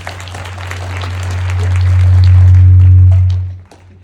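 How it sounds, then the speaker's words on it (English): Steady applause from an audience swells over a few seconds, holds loud, then tapers off quickly near the end. "So round of applause."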